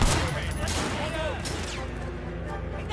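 Gunfire in the open-world action game Sleeping Dogs, a dense burst of shots over a loud, busy game soundscape, with a voice talking excitedly over the shooting.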